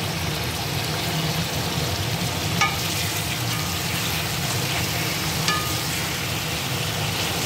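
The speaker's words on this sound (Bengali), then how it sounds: "চিকেনগুলো ভাজা হচ্ছে" Chicken pieces fry in hot oil in a wok with a loud, dense and continuous sizzle that holds steady from start to finish, with a few faint clinks over it and no talking.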